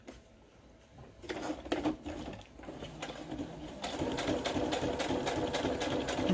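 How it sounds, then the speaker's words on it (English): A sewing machine running a long straight stitch through collage pieces on paper, starting after a quiet moment and settling into a steady, rapid mechanical chatter that grows louder and continuous, close by, with soft pigeon cooing in the background. "And for sewing him down, I want to use a straight stitch."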